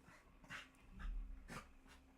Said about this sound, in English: My dog is making a bunch of noises behind me.